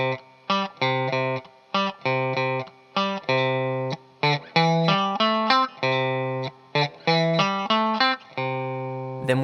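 Electric guitar picks out a classic figure, repeated bursts of clean, chorused notes in a steady syncopated pattern, close and clear with no talk over it.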